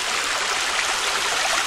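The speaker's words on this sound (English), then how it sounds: "The first little waterfalls." Small waterfall on a stream along Cold Run Trail in Worlds End State Park, Pennsylvania: a steady, close, broadband rush of falling water, even and unbroken throughout with no voices.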